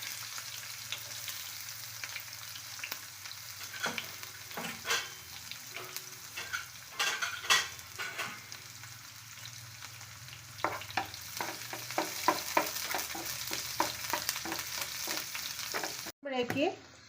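Chopped shallots frying with mustard seeds in a pan, with a steady close sizzle and crackle and a few louder pops and stirring scrapes throughout; no talking.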